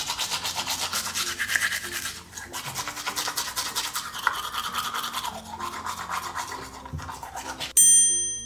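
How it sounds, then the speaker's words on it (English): Toothbrush scrubbing teeth at bedtime, a close, steady scratchy brushing that continues for several seconds, followed by a brief chime at the end. "Let's give her a good brush so her teeth are clean and her breath smells fresh."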